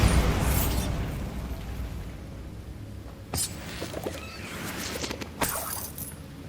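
The Bombarda explosion spell in Hogwarts Legacy, a loud booming burst at the start decaying into rumble, followed by a couple of sharper cracking pops later.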